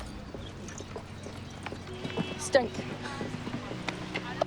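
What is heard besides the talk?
horse hooves clip-clopping at a show jumping event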